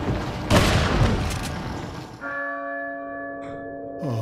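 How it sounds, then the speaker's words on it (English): In Resident Evil 4, a church bell tolls with a long ringing hum after a burst of gunfire and booming noise, the bell's steady resonant tone sustaining clearly before a faint second strike near the end. "Oh, la campana."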